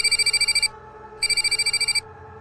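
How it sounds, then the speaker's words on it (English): A work phone rings in two bursts of rapid electronic trills, each lasting under a second with a short silent gap between, loud and close over a faint low hum. "Then my work phone rang."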